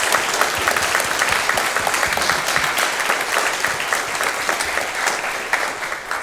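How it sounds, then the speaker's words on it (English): An audience at a Japanese–German–French forum on AI and healthcare applauds the organization team, loud sustained clapping from many hands filling the room evenly throughout, with no voices on top. "And so maybe a very little applause for the organization team."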